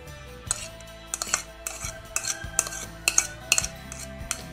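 Utensil scraping and clinking against a bowl while mashed potato is mixed with radish and sausage, repeated irregular taps and scrapes, close and fairly quiet, no talking.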